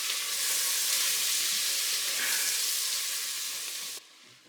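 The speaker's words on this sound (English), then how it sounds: "Now I'm gonna add in a stick of softened, unsalted butter to the pan. Melt that off" A stick of softened unsalted butter melts in a pan, giving a steady, close sizzle and crackle that holds for about four seconds before dropping off sharply to a quieter hiss.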